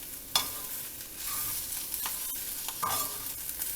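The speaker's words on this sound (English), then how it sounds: "Give it a stir." Coriander leaves stirred into fried coconut in a hot pan for turmeric chutney: a soft sizzling hiss runs throughout, with three or four scraping strokes of the spoon close by and no voices.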